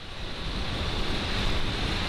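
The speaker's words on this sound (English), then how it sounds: "Oh, it's a windy day." Steady wind on a blustery day roars as broadband noise buffeting the microphone, constant and close for the whole stretch, with no talk over it.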